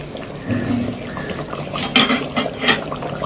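Chicken pieces being mixed into a Bengali chicken kosha curry in a pot: clinking and scraping of a metal spoon against the pot with wet, liquid stirring sounds, close and irregular, with no voices.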